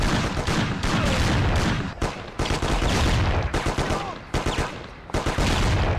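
Rapid bursts of gunfire in the video game Mafia, heavy and loud, firing in dense volleys broken by brief pauses over several seconds, with a shotgun-toting enemy in the fight.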